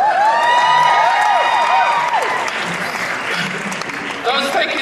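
An audience applauding with cheers and whoops at a live talk, a loud dense burst of clapping that holds steady and then thins out, with crowd voices mixed in.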